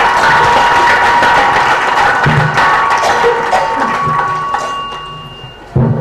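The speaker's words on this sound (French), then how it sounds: "Veuillez l'applaudir, s'il vous plaît, chers collègues." Audience applause at a book signing event for a short-story collection, a dense steady clatter of clapping that holds throughout and gradually thins toward the end, with a sudden burst near the close.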